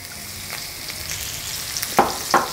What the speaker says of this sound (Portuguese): Deixa refogar esse alho por aproximadamente 1 minutinho.